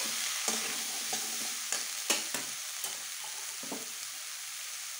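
Chickpeas for dhaba-style chana aloo ghugni are stirred in a frying pan, a spoon scraping in several sharp strokes over a steady sizzle, close and clear.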